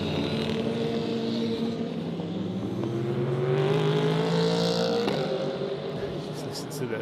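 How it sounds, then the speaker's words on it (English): GT3 race cars with V8 and V10 engines drone and rise in pitch at the Magny-Cours circuit, a steady loud roar of several machines with a commentator's voice over the top. "Just listen to the various engines, the V8s, the V10s."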